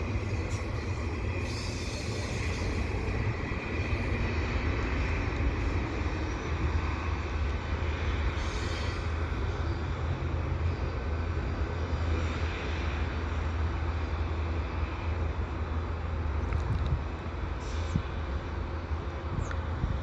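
The last cars of a CP eastbound mixed freight train with stacks roll past at Dorval, a steady loud rumble of wheels on rail with faint squeals, continuous and close throughout.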